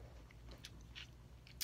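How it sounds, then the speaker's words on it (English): Chocolate-covered dried fruit is chewed close up, with soft wet mastication and a few sharper crunchy bites scattered through a quiet room. "Sorry you're watching me chew on this video"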